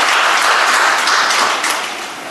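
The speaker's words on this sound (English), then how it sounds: "Round of applause for him." Audience applause at a national conference on gender equity in urban India, a dense steady wash of clapping that fills the hall and fades slightly toward the end, with no talk over it.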